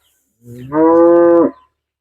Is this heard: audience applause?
no